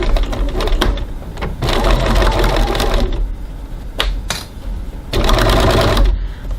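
A sewing machine stitches piping through foam at a 2.6 stitch length on a 1 cm seam, loud close bursts of rapid stitching interrupted by short pauses and clicks.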